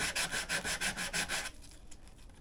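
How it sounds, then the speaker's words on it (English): Norton sandpaper rubbed back and forth on scooter or motorcycle plastic for a repair, about eight quick rhythmic rasping strokes up close, then a softer, quieter scrape. "This is Norton sandpaper."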